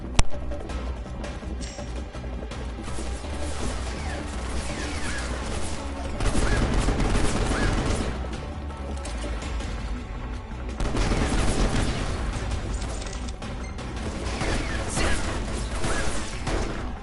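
Gunshots in Final Fantasy XV Episode Prompto, with rapid repeated firing and bursts of impacts within dense, loud game action and music, swelling in waves across the stretch.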